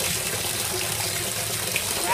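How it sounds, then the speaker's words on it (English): A Lush Luxury Pud lavender bath bomb fizzes in bathwater, producing a steady, dense, bubbling hiss that stays close and constant throughout with no pauses. "It's still bubbling."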